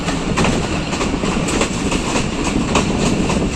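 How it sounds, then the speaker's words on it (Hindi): The Kohat Express in Pakistan rolls onto the Basal branch line, a loud, continuous rumble from inside the moving train, with steady clickety-clack wheel beats over the rails and no voices. "अब हमारी ट्रेन जा रही है ब्रांच लाइन पर"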